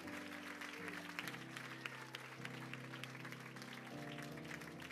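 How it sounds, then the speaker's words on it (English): A church congregation claps at a Sunday service, the dense patter of hands running steadily throughout, with sustained music underneath. "Clap your hands like God's awesome."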